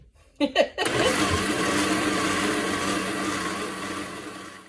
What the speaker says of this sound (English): I've been blending it for a little bit now